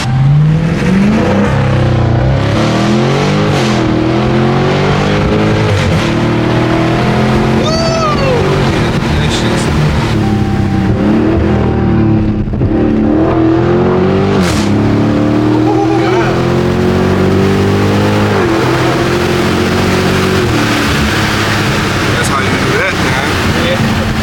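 A 2023 Chrysler 300C with a muffler delete revs loudly and close, its raw exhaust rising and falling in repeated throttle blips while people talk over it.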